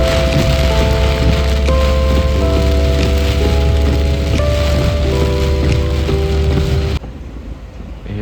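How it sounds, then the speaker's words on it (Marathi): Rain falls on surfaces outside near Guwahati airport, a loud, dense, steady patter with a sustained tonal hum underneath, cutting off abruptly near the end. "आत्ता 5 मिनिटांनी पाऊस सुरू झाला आहे"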